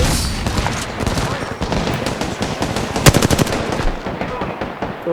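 Automatic gunfire in a multiplayer shooter video game: dense, loud bursts of rapid shots run through the whole stretch, with a sharper cluster near the middle.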